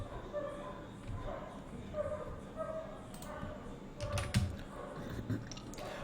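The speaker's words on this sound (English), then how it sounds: "using keyboard, I'm hiding and unhiding" Keyboard shortcuts are typed on a computer keyboard while working in Microsoft Excel, with soft scattered key clicks and taps under a person talking, and faint background noise throughout.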